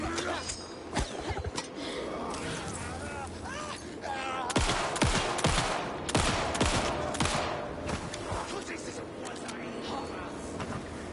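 Gunshots in the survival horror game Alan Wake 2, a string of sharp, separate cracks scattered through the passage over steady ambient game sound, with a person talking in between.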